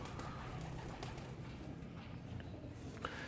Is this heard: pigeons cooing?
yes